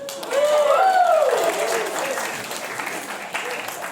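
Comedy club audience claps in response to a stand-up comedian's prompt, a steady burst of applause from a crowd that swells early and then tapers, with some voices and a brief vocal whoop mixed in.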